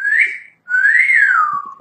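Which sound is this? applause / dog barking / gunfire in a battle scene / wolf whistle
wolf whistle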